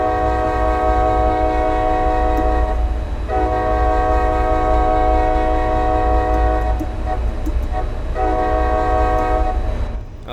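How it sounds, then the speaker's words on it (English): A multi-tone horn on an MBTA HSP46 diesel locomotive in the Train Sim World video game sounds three long, loud chord blasts with brief gaps between them over a low engine rumble. "Oh, that's such a good sounding horn."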